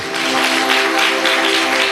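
A worship congregation claps vigorously in a close, unbroken wash of applause, with held musical notes droning underneath.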